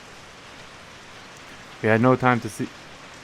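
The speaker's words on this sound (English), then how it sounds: "In less than a minute, the rain turns into a sudden downpour." A heavy downpour in the visual novel Steins;Gate hisses as a steady, dense wash of rain throughout, with a voice speaking briefly over it near the end.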